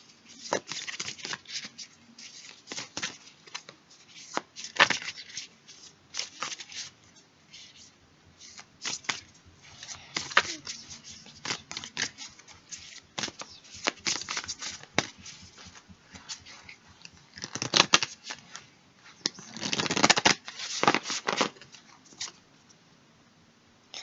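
Tarot cards are shuffled in repeated quick riffling bursts, crisp and close, with brief pauses between rounds and no talk over them.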